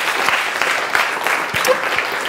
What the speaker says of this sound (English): If you like this, I want to hear some applause.